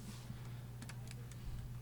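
Keys on a computer keyboard are typed in a short, quiet run of light clicks over a steady low hum, with several distinct taps spread across two seconds.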